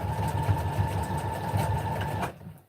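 A sewing machine stitches elastic in a rapid, even mechanical chatter that runs steadily for a couple of seconds, then stops abruptly.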